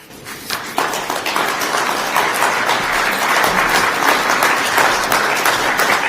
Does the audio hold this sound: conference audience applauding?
yes